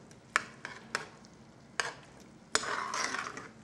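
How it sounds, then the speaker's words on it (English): A spoon stirs food in a pan, with sharp scraping knocks of utensil against metal followed by a longer scrape and a soft sizzle, close and fairly quiet. "And stir it in there good."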